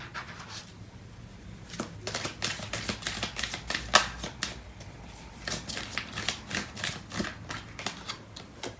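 Tarot deck shuffled steadily at close range, a continuous run of papery riffles and slaps over a faint low room hum, no talking.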